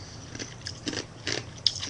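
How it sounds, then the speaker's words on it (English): Ice being chewed close to the mouth: several crunchy bites in an irregular rhythm, each a brief crackling burst, fairly quiet and without talk. "I like chewing on ice."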